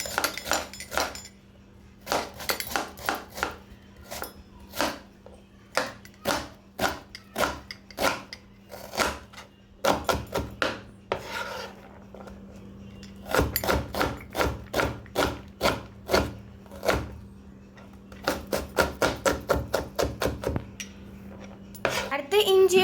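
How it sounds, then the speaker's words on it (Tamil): A knife chops onion on a board in quick runs of sharp, crisp taps, each burst of a dozen or so strikes separated by short pauses, close up over a faint steady kitchen hum. "அடுத்து நம்ம எடுத்து வச்ச உள்ளியை வெட்டணும்."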